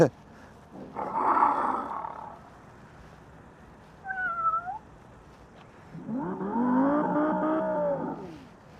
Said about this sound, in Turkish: Aracın şu kaputun altında bir yerde e, bir hoparlör yerleştirmişler dışarıdaki insanları uyarmak için.